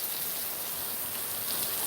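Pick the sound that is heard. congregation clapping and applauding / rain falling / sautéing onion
rain falling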